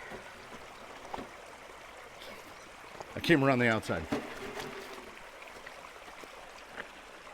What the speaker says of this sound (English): Wow, the water is just noisy up here. This is just noisy water.